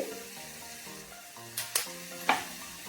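Spice tempering sizzling in a pan for a North Karnataka style thin saaru, a soft steady sizzle with a few sharp crackling pops and scraping, alone.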